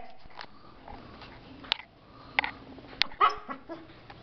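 A dog snuffling and making small whiny, yelping noises at close range, with scattered sharp clicks and scuffles in a quiet room.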